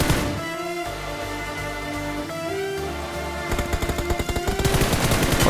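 Gunfire from a player knocking down an enemy in PUBG winter mode: tonal game sounds at first, then a burst of rapid automatic shots close and loud toward the end.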